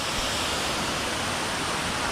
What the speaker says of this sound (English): And then the waterfall goes down in between.